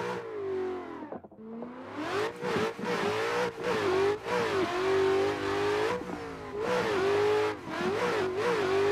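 A BMW E30 engine in a racing video game revs hard through repeated gear changes, rising and dropping in pitch with brief cuts between shifts, loud and close throughout.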